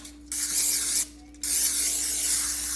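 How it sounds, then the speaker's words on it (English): Two hissing bursts from a cooking spray can onto a pan, a short spray then a longer one after a brief pause, close by with a faint hum underneath. "you're going to thoroughly spray the pan and the edges really good"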